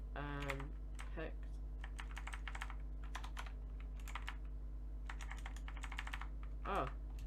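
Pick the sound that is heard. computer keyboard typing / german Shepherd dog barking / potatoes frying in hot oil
computer keyboard typing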